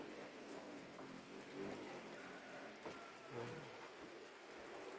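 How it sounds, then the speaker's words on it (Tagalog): Light rain begins falling outdoors at a home where a supper soup is being cooked, a faint, steady patter with soft scattered drops and no voices. "Taligsik na guys, umpisa na yung ulan."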